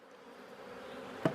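Honey bees hum steadily at a hive during an early spring inspection, a low continuous buzz with one brief louder burst near the end, close up and without speech.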